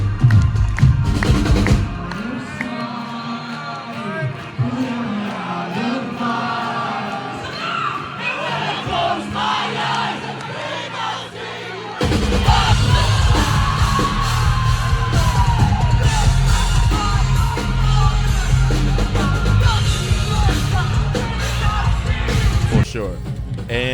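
A crowd at a metalcore concert on a divide tour yells and cheers loudly throughout, with a brief drop in volume midway before the roar swells again; voices shout over the din.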